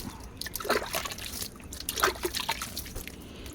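Soft splashes and trickles of water come in a few small, faint bursts, as water is sprinkled close by onto freshly planted greens in a rooftop kitchen garden.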